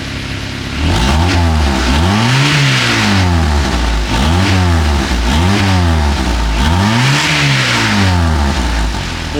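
A lowered, stanced car revs and accelerates close by in repeated rising surges, its engine note swelling and dropping in a steady rhythm of roughly four pulls.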